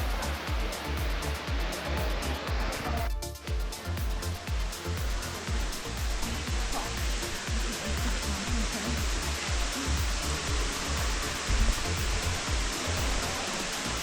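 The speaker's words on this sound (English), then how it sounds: "We'll get close to this, the waterfall." Ash Cave waterfall in Hocking Hills, Ohio, in winter: a steady, dense roar of falling water, loud and unbroken throughout, with no talking over it.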